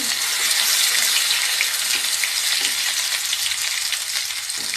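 Grated ginger sizzles in hot ghee in a pan, making a dense, loud crackling hiss that stays even from start to finish, close by and with no voices.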